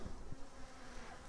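Honey bees buzz at an open hive, a soft, continuous hum of many wings, fairly faint and close, with no voices.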